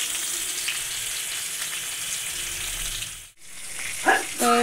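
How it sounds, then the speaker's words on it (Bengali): Fish fries in a pan with a continuous close sizzle that drops out briefly, then returns with a few light clinks near the end. "এই যে এখানে মাছ ভাজা বসিয়ে দিয়েছি"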